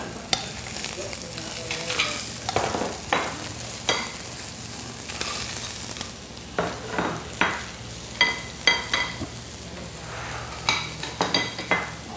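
Scallops searing in a hot pan on high heat, a steady loud sizzle with stirring and occasional utensil clicks and scrapes throughout, no voices.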